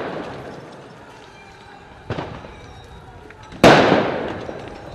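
Two sharp stun grenade blasts go off during a night street riot near the Athens Polytechnic in 2018, the second much louder and closer, each with a ringing echo that fades over a murmur of crowd noise.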